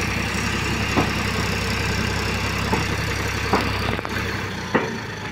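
An Eicher 333 tractor with a 39 HP Simpson engine runs steadily at idle, a continuous low rumble with a few brief knocks and clanks over it.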